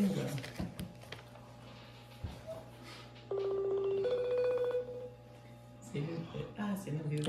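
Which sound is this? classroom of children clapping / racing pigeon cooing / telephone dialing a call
telephone dialing a call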